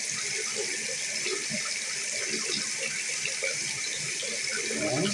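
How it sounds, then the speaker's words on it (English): Water runs steadily from a bathroom tap during face washing, a constant close hiss of flowing water with soft splashes from hands underneath. "Now I'm gonna wash my face."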